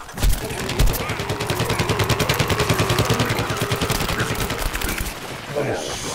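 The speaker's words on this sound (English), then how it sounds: "Getting shot at." Rapid automatic gunfire in the shooter game Plants vs. Zombies: Garden Warfare, heard as a long, evenly spaced burst of loud shots after two single reports, with faint talk in the background.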